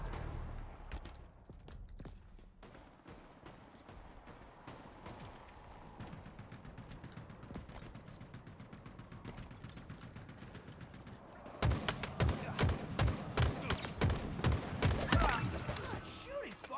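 Gunfire fills a Halo Capture the Flag match, steady bursts under a noisy game backdrop that grow louder and more rapid toward the end, with heavy repeated shots.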